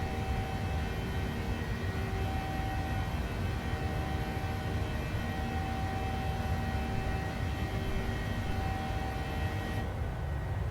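A PMDG Boeing 737-600 climbs out of Alicante in Microsoft Flight Simulator 2020, its engines a steady, loud broadband roar with thin tonal whines riding on top, unbroken for the whole stretch before the noise drops off abruptly at the end.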